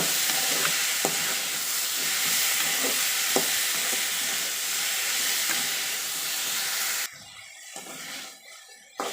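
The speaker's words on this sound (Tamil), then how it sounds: "இப்படி வெண்டைக்காயெல்லாம் எண்ணெயிலே வதக்கும் போது" Okra sautéing in oil with a little salt for sambar, a steady close frying hiss with scattered stirring scrapes and pops, cutting to near quiet for the last two seconds apart from a few soft clinks.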